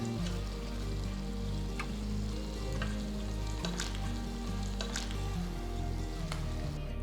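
Eggs fry in a kadai with a steady soft sizzle and light crackle, occasional spatula scrapes and taps as the pieces are cut and flipped, with a constant low hum beneath.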